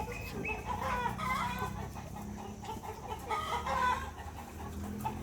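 Burmese chickens cluck and call in a loose series of near, moderately loud bursts, with brief lulls between them over a low background hum.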